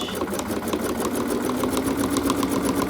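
Sewing machine stitching fabric for an appliqué sunflower pillowcase, a close, rapid, evenly pulsing mechanical whir with regular needle clicks.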